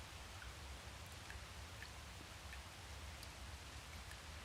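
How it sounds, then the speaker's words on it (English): Heavy rain falls in Dragon's Dogma 2, a dense, steady hiss of rain with scattered droplet patters, continuous and fairly loud with no talk. "raining most heavily"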